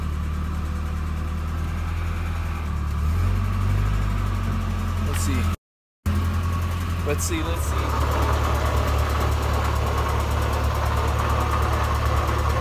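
A car's engine, on a Nissan 240SX just fitted with a new differential, idles with a steady low rumble that shifts in pitch partway through, with a short gap in the middle and people talking over it.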